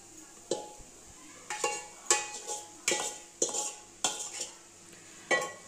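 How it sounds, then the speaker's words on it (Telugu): A spoon stirs rice into curry leaf paste in a pan, each scrape and clink landing in a steady series of about eight close, sharp strokes over a faint background hiss, with no talking. "ఈ రైస్కి ఆ కరివేపాకు పొడి పట్టేదాకా మనం కలుపుకోవాలి."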